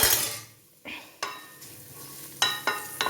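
Beans and papaya sautéing in a pan with a few slit green chillies, a spoon stirring and scraping in sharp separate strokes over a faint sizzle, close and fairly quiet.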